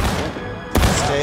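Musket gunfire in the Civil War video game War of Rights: one sharp, loud shot cracks partway through, over a busy battle background.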